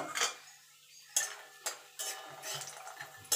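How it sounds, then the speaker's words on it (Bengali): Lentil dumplings (bori) frying in hot oil in a home kitchen, heard as sharp clattering strokes of a utensil against the pan in irregular bursts, with a light sizzle between them. "দেখুন বন্ধু এখানে কটা বড়ি নিয়ে নিয়েছি, বড়িগুলো লাল লাল করে ভেজে নেব।"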